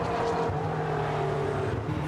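A GT race car driven by Sebastien Loeb roars close by toward the finish line of an FIA GT qualifying race in Slovakia, its engine a loud, sustained drone with steady pitch.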